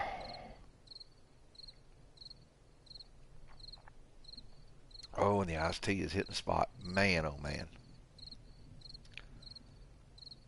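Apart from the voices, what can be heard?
crickets chirping in 7 Days to Die video game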